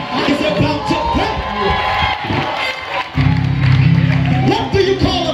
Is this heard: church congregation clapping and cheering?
yes